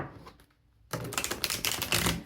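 An oracle card deck being shuffled, a brief quiet lead-in followed by a dense run of crisp, rapid riffling clicks up close.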